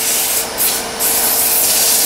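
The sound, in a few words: sanding a wooden bottle stopper on a lathe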